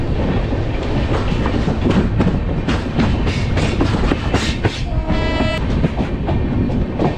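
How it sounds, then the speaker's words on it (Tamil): The Chozhan SF Express rolls out of Cuddalore station, a steady loud rumble with rhythmic clickety-clack of wheels on rails and a short horn blast near the end. "இப்போது கடலூர் ரயில்வே ஸ்டேஷன்லேருந்தும் ட்ரெயின் ஸ்டார்ட் ஆகிடுச்சிங்க"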